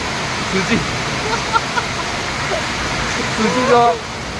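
Steady hiss of heavy rain fills the clip, with people talking and shouting intermittently over it.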